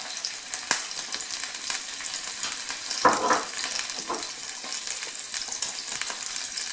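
Chopped garlic sizzles and fries in a hot pan, a steady crackling hiss with a few louder bursts and stirring scrapes, close and without talk.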